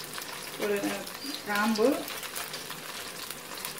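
Whole cloves and bay leaf temper in hot oil for a home-style chicken curry, a steady, fairly quiet sizzle running under someone speaking.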